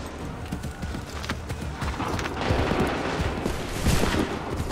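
Musket volleys crack in a busy Assassin's Creed III battle, dense bursts of gunfire with hoofbeats and shouting mixed in, loud and continuous.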